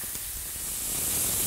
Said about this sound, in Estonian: Paneme veel natukene õli.